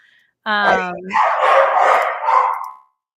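A dog gives a short, bright bark, then a rougher, noisy burst of yelping or scuffling follows, fairly close and loud.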